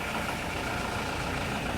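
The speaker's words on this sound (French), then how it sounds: "Les moteurs sont allumés." Engines of a Fountaine Pajot Hélia 44 catamaran running just after starting, a steady idling drone with a dense, even rumble held at moderate loudness throughout and no voices.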